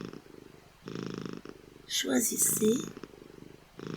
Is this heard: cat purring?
yes